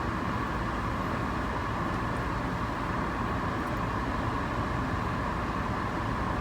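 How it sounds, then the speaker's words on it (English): Car air conditioning turned up high while driving, a loud, steady broadband blowing hiss filling the cabin without a break, with no talk. "It just gets really hot and I have to crank the air conditioning."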